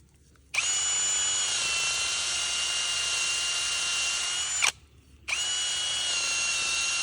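A power drill bores holes in a eucalyptus log, whining loudly and steadily for about four seconds, stopping briefly, then starting again close by.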